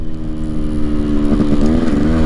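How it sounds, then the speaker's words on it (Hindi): A motorcycle engine hums steadily close by, then its pitch swells in a brief throttle blip for a rev-matched downshift and settles at a higher, slightly rising tone. "इधर से ब्लिप करो और इधर से थ्रॉटल हल्का सा बढ़ाओ, बढ़ा के छोड़ो और इधर से गियर डाउन कर दो"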